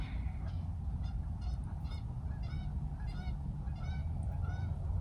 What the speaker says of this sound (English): Do you hear those? I think they're ducks.